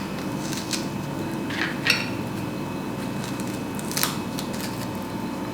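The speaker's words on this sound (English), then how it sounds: "So I will start with preparing the strawberries and remove the stems." Stems are removed from fresh strawberries in a home kitchen, making a few soft snips and light clicks over a steady background hum, close by and fairly quiet, with no voices.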